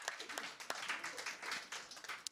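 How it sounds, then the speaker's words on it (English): A small open-mic crowd at a Thursday night live show claps in a round of applause, a steady patter of scattered hand claps with a few sharper slaps, fairly faint and roomy, with no talk over it. "Let's give them a little round of applause."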